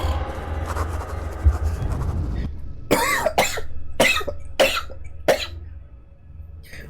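A man coughs hard during a horror game session, five sharp, harsh coughs in quick succession, loud and close, following a stretch of low rumbling game ambience.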